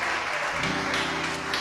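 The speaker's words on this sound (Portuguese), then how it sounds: "Aplauda Ele mais uma vez, porque Ele é maravilhoso." Applause from a congregation at a church service held in a garage, a steady, loud wash of clapping throughout with a faint hum behind.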